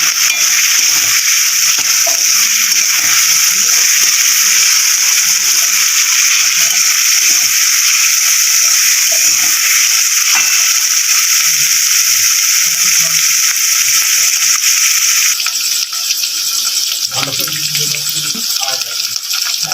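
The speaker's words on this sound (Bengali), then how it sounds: "এটাকে আমি কিছুক্ষণের মতো নাড়াচাড়া করে ভালোভাবে রসুনটা ভাজবো" Garlic paste frying in a pan, a loud, steady sizzle that hisses continuously throughout, with faint occasional stirring scrapes beneath and a slight shift in tone near the end.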